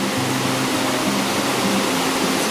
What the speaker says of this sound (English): that water is raging.